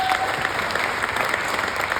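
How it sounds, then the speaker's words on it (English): An awards-night audience gives a round of applause, steady close clapping filling the room at an even level. "Round of applause"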